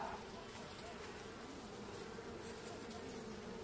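Caucasian honey bees swarm around their hive as they come out of winter, making a dense, steady buzzing hum that stays close and even for the whole stretch with no break.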